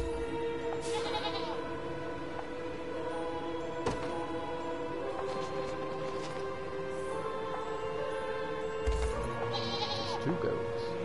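Goats bleat in the fantasy video game Unicorn Overlord, repeated calls over a steady game music bed with some game sound effects.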